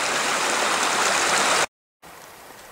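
Creek water flowing, a steady close hiss and rush that cuts out abruptly, then returns fainter after a short silence.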